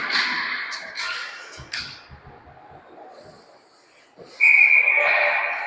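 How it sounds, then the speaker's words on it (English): At a hockey game, a referee's whistle gives a sharp, steady shrill blast late on, loud over arena crowd noise and faint clatter. "There's the whistle."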